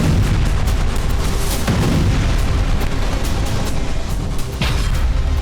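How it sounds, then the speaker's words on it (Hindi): Howitzer strike on a Ukrainian weapons depot: a continuous, loud wash of deep rumbling blasts and crackling detonations, with sharper bursts standing out near the middle and toward the end, no voices. "यूक्रेन के होवित्जर प्रहार से यूक्रेन का एक हथियार गोदाम नष्ट हो गया"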